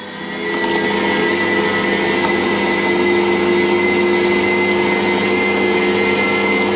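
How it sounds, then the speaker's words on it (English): Meat mincer grinding sausage meat for sweet Italian sausage a second time, a loud steady motor whine with strong tonal hum that starts up and runs continuously, close and uninterrupted, with no talking. "So let's get it through the mincer the second time."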